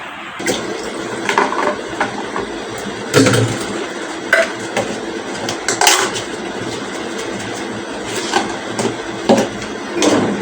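A bottle is washed by hand, with close clinking, knocking and sloshing of water in irregular bursts throughout and occasional louder clatters.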